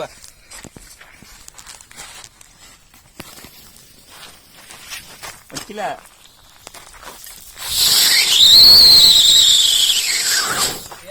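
An Angry Bird fancy firecracker goes off outdoors with a loud, shrill whistling squeal that rises and bends for a few seconds, preceded by quiet scuffing, rustling and scattered handling noises.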